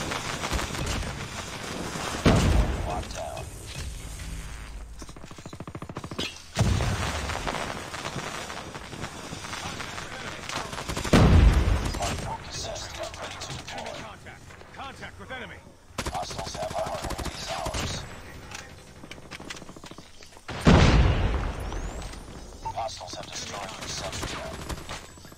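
Repeated bursts of automatic PDW gunfire in a multiplayer video game, loud and close, in several separate volleys with quieter stretches between them and occasional voice callouts in the game.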